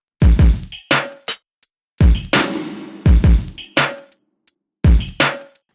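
Full industrial hip-hop drum pattern with heavy kicks and a big reverb-washed snare plus short percussive ticks, looping loud and punchy with no voices.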